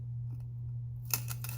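Scissors snip into a cone for a mini tree arrangement: a few quick, close cutting crunches after a quiet pause, over a steady low hum.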